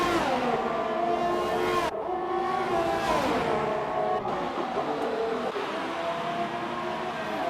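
Race cars in the SF1 racing game, a steady loud engine whine with shifting pitch as cars run on cold tyres, continuous throughout with brief dips like gear changes.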